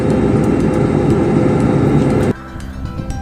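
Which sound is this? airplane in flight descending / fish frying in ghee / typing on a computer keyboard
airplane in flight descending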